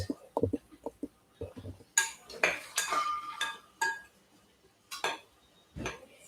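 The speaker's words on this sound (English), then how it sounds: "you get your spoon and then you mix the salt around" A spoon scraping and clinking against a bowl while salt is stirred around, with irregular taps and scrapes close up, louder in the middle of the stretch.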